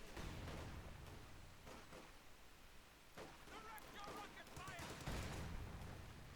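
Gunfire from a .50 cal machine gun in Company of Heroes battle gameplay, faint, rapid bursts mixed with scattered shots and blasts, heard under a commentator talking.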